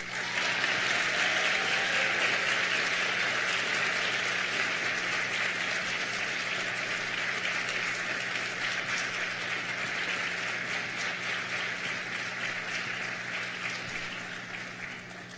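A lecture audience applauds to welcome author Angeline Boulley, a steady, dense clapping from a full room that holds for about fifteen seconds and then slowly tapers off.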